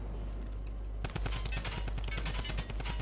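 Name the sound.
gunfire in the video game Fortnite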